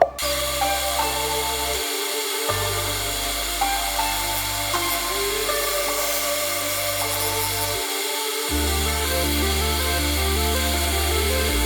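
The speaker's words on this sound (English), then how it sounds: "I'm going to sand this back now" Continuous droning whir of a lathe with the rasp of sandpaper against a spinning live-edge crotch burl wood bowl, steady and close, briefly dipping twice.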